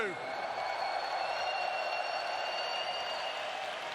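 Steady applause from a large esports crowd in Mercedes-Benz Arena fills the space, a continuous wash of clapping with a voice briefly at the start.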